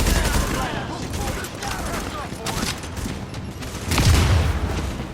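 Gunfire in The Division video game during blind fire, loud bursts of rapid shots over a dense, continuous battle din, with a heavier boom near the end.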